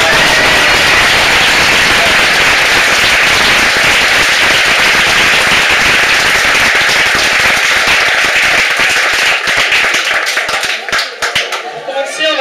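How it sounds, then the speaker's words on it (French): Loud, dense applause from an audience at a speech ceremony honouring Raphaël Touguier, sustained for the whole stretch and thinning into scattered claps near the end. "on applaudit très fort Raphaël Touguier"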